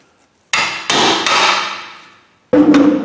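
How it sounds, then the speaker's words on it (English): An impact driver works on the front brakes of a Honda CR-V, firing loud sharp hammering bursts up close, three quick impacts that ring out and fade, then another burst after a pause. "We're using the impact driver"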